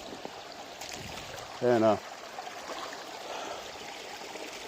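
A Pennsylvania creek flows and trickles in a steady, broad wash of running water that continues throughout, with a brief voice heard over it.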